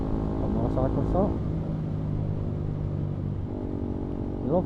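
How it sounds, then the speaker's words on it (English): A motorcycle engine rumbles steadily up close, idling with a low drone, while a voice talks over it in short bursts. "A motorcycle stop."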